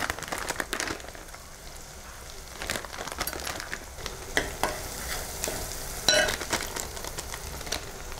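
Spices and curry powder frying in a pan for nasi kandar, stirred with steady scraping and a soft crackling sizzle, with occasional sharper clinks of the utensil against the pan, close and moderately quiet.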